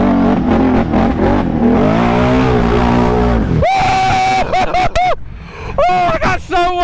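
A Honda off-road vehicle revs hard through mud, its engine note loud and close and sweeping up and down in repeated bursts. Excited voices shout over it.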